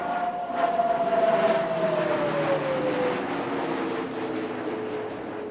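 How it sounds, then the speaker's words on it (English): A Hindustan Turbo Trainer 40 turboprop trainer makes a flypast at the 2025 Bengaluru air show, its engine roar loud and near with a whining tone that slides steadily downward as it passes and recedes. "it's now time for the grand entry of Hindustan Turbo Trainer 40"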